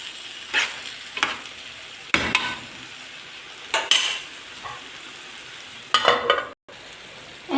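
Potatoes and vegetables sautéing in a pan for Egyptian potato shakshuka, a steady sizzle broken by several bursts of stirring and utensil scraping against the pan, close and alone.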